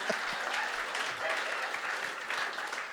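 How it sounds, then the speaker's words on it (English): A stand-up comedy audience applauds a comedian, a dense, steady wash of clapping that fills the room for the whole stretch, close and even with no talk over it. "A big round of applause for Krieg Egan, who was that man."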